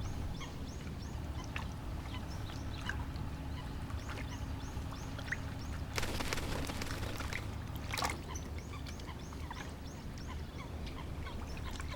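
Eurasian coots call around a lotus pond, a chorus of repeated short clucking notes near and far over steady background noise, with a louder splashy burst partway through.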